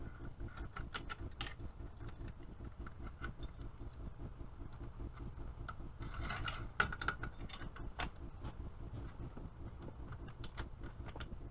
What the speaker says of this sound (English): Put our dust cover and our recoil spring back in.